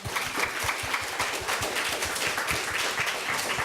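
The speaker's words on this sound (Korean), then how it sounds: "다시 한번 큰 박수 한번 부탁드리겠습니다" Audience at a disability-rights talk event giving a big round of applause, continuous many-handed clapping, fairly distant and moderate, with no talk over it.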